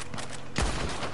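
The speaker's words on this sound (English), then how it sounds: "Headshot!" Gunfire in the Red Dead Redemption 2 Online video game, a single loud, close shot that booms and fades over a dense game soundscape, about a second long.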